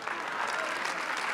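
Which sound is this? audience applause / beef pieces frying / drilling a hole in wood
audience applause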